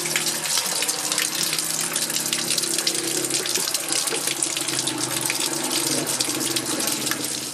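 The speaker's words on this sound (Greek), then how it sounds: "Για να γεμίσει λίγο νερά." Water gushes steadily from a pipe or tap, filling a barrel outdoors in the village of Chrysovitsa near Ioannina, a continuous loud splashing flow with a low hum running underneath throughout.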